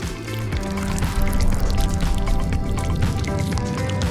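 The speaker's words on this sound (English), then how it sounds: "Now it's time to pour the batter into it." Cake batter poured into a parchment-lined ring mold, a thick wet glugging and dripping stream that runs steadily for several seconds at close range with no talk.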